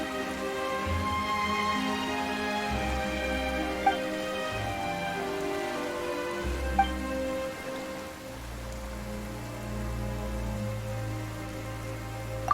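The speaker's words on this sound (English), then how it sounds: "Why is it raining all of a sudden?" Steady rain falling in a fantasy video game, a continuous soft patter heard throughout beneath layered background music, with a few sharper drips.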